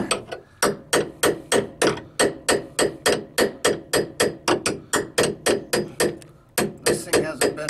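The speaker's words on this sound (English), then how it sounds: "Hold on, I gotta get a hammer. Exercising this ball valve here." Hammer tapping a long-unused ball valve during plumbing maintenance, about two dozen sharp metallic blows in a quick, steady rhythm, close and loud.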